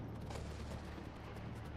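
Thunder from a lightning strike close by in the Skyrim video game gives a broad, rumbling boom that fills the short stretch at steady loudness, with no talking.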